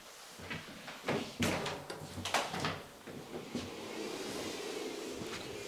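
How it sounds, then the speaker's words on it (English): Solarlux bifold glass doors slide and fold back fully, producing a run of clunks, rolling scrapes and knocks from the panels and track before settling into steady outdoor ambience. "when you open them and you slide them back fully"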